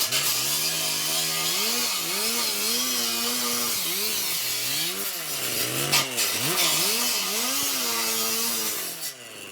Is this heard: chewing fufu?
no